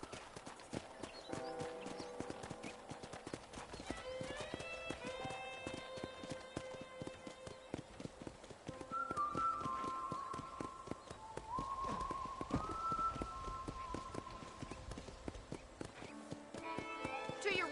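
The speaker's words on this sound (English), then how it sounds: "I picked out a fine horse for you." Horse hooves clip-clop at a gallop in the Red Dead Redemption video game, a steady rapid rhythm running throughout under ongoing talk and music-like tones, close and moderately loud.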